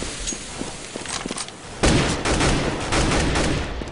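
Counter-Strike gunfire during a competitive match, with scattered single shots at first, then a dense, loud burst of rapid firing that carries on steadily to the end.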